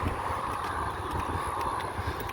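Wind blowing outdoors rushes steadily against the microphone, a constant loud roar with low buffeting and no talking.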